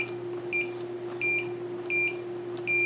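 A multimeter gives short, high-pitched continuity beeps while probing a broken trace on a Cherry keyboard circuit board. There are four brief beeps, each a quick double chirp, over a steady low electrical hum.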